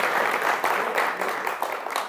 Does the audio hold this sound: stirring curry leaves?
no